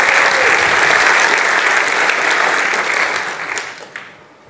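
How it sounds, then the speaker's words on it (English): Audience at a web design conference, Responsive Field Day 2015, applauding the organizing team: a dense, loud wash of many hands clapping together, steady for several seconds before thinning and fading out at the end. "Let's give them a quick round of applause"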